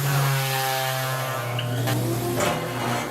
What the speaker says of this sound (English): I really like this Makita sander.